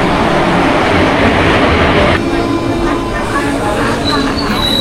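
A train pulls in at Bandel station with a loud, steady rumble of wheels and carriages that eases after a couple of seconds, then high squeals and faint tones rise over the continuing rail noise.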